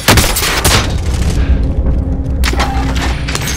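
Gunfire in the video game Call of Duty Warzone, loud dense bursts of shots and heavy booming blasts filling the whole stretch, with a brief lull in the middle before the firing picks up again.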